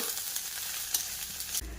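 Boiled susni greens hit a hot pan with chopped garlic, giving a steady close sizzle that swells into a louder, deeper burst of frying near the end, with no voices.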